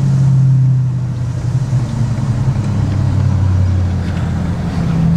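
Ford 6.7 Powerstroke diesel pickup truck in tow haul mode, with a loud steady engine drone from inside the cab and low rumbling that shifts pitch as the transmission downshifts.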